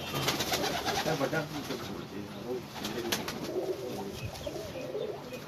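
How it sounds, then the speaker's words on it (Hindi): Khatang pigeons cooing in a loft or yard, soft repeated coos mixed with faint bird calls over a steady background hiss, with low voices murmuring at times. "ये खतंग कबूतर हैं जी"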